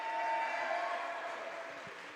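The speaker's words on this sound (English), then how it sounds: "Applause for the assistant Greencastle coach who cleaned up the floor." Applause from a basketball crowd in a high school gym for an assistant coach, a steady wash of clapping that fades slightly near the end.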